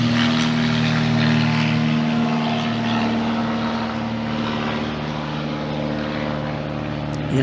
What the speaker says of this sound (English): We have a little local plane going by.